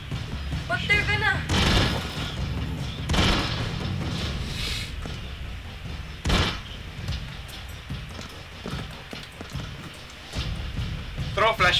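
Gunfire and explosions in the video game Broforce, bursts of shots and booms scattered through the clip, with people talking over the action.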